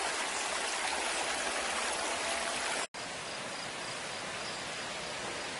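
Steady broadband rush of stream water flowing outdoors near a mill, fairly still water with little fall, constant and even, with a brief dropout midway and faint insect-like chirping underneath.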